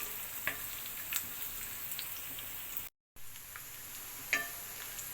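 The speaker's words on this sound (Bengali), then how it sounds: "দিয়ে একটু নাড়াচাড়া করে নিচ্ছি সুন্দর একটা স্মেল বের হওয়ার পর্যন্ত।" Cardamom and cinnamon frying in hot oil, a soft steady sizzle with occasional light stirring ticks and small pops, faint and close, briefly cutting out for a moment.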